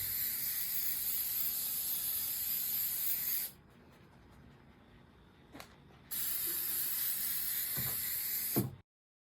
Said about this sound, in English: we just start spray painting